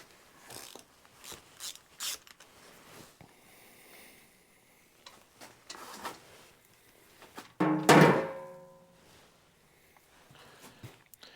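Ratchet clicking in scattered short bursts while spark plugs are pulled from a 1943 Case SC tractor engine, with one louder metallic clatter partway through, close and fairly quiet overall.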